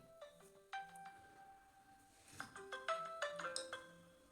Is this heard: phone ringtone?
yes